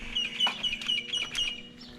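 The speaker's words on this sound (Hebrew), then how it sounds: "הציפורים שאתה שומע פה" Small birds chirp and trill in a quiet pastoral yard by a house, a string of rapid high tweets close by over a faint steady hum.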